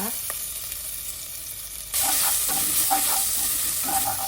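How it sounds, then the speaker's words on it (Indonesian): Ground spice paste with onion hits a hot pan and sizzles, jumping to a louder, brighter fry about halfway, with stirring scrapes through the steady crackle. "Harumnya tumis sampai bumbunya harum."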